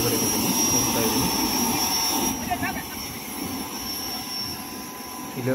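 A loud, steady jet engine roar fills the air near an aircraft at Gulbarga airport, a constant broadband rush that dips slightly midway, with faint voices mixed in.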